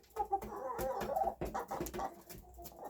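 Backyard hens, several years old, cluck and murmur close by in soft, irregular bursts, with a few louder squawks mixed in.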